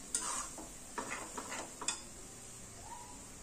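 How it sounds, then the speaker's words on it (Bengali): Chili paste masala stir-fried for dried fish, quiet sizzling broken by several spatula scrapes and clicks against the pan, with a steady high whine throughout. "এখন আমি মশলাটাকে ভালোভাবে কষায় নিব"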